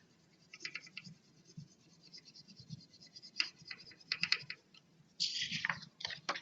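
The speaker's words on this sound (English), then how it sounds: "and I put paper over it and do a rub" A crayon or pencil is rubbed over paper laid on a textured rubbing plate, giving soft, quiet, scratchy strokes in irregular bursts that grow busier and louder toward the end.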